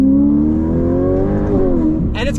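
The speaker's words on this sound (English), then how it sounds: "this thing frees up the exhaust and actually sounds really good. It's nice and loud." A Ferrari F8 Tributo's twin-turbo V8 exhaust drones loud and close, its pitch slowly rising as the revs climb, then dipping, before a brief sharp burst of noise near the end.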